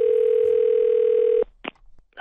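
A telephone dial tone hums steadily and loudly for about a second and a half before cutting off abruptly, followed by a few faint clicks and brief noises, with no talking, at the start of a prank phone call.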